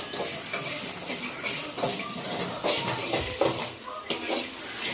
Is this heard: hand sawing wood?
no